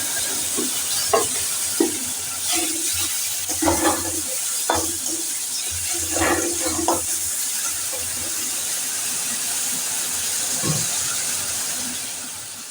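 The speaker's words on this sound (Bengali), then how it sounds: "তারপর আমি এই যে স্ম্যাশড করেছি যে জলপাইগুলোকে আমি ছেড়ে দিলাম।" Smashed olives dropped into a pan with turmeric and frying over a lowered flame, a steady soft sizzle with clinks and scrapes of stirring, close and alone without any talk.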